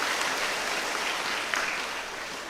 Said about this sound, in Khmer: សូមផ្ទះដៃ